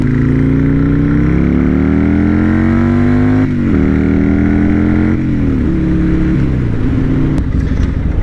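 A Buell S1 Lightning motorcycle rides on a road near Wickenburg, Arizona. Its loud engine drones steadily, with the pitch rising and falling through gear shifts and throttle changes, close up, and no talk.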